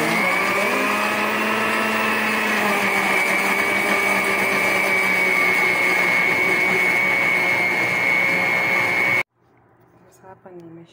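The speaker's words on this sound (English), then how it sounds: "Then ina blendi mixture yote." A blender whirs loud and steady while blending banana pancake mixture, then cuts off abruptly near the end, leaving quieter background sounds.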